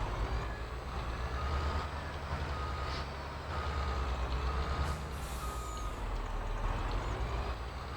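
A Mack Titan truck in Farming Simulator 22 lets air out of its drive axles, a steady hissing air release over a continuous low engine rumble, accompanied by repeated reversing beeps.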